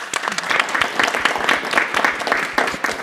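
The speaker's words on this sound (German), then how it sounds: "Basti hat keinen Applaus bekommen, Leute, das geht nicht" An audience at a fishbowl discussion forum on education breaks into lively applause. The dense, rhythmic clapping from a sizable group stays close and loud throughout.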